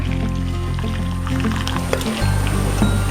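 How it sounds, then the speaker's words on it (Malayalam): Beetroot wine pours and trickles through a strainer with soft squishing, over a constant low mechanical hum. "ഇത് നമുക്ക് അരിപ്പ് വെച്ച് ഇങ്ങനെ ഒഴിക്കാം"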